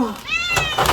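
A hungry stray cat meows up close, one drawn-out rising cry, while people talk nearby.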